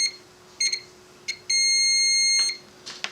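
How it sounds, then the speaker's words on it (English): A continuity tester beeps as its leads touch while checking a solder joint on a Yashica Electro 35 camera wire: a few short, sharp electronic beeps, then one sustained tone lasting about a second, loud and close. "So it'll beep when these guys touch"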